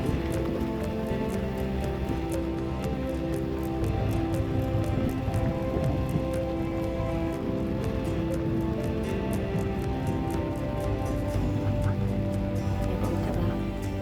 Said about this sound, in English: Then the rain started.